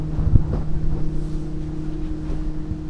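Boat motoring slowly across open water, a steady low engine drone with a constant hum throughout, mixed with wind buffeting the microphone and a brief knock near the start.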